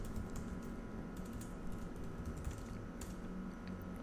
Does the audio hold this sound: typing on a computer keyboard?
yes